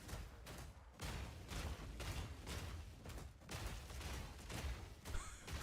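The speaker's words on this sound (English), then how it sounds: "I can only hear my dude banging on his shield." Repeated heavy metallic banging from a warrior character striking his shield in Path of Exile 2, a steady run of loud, close impacts over a dense game soundtrack, with no talking.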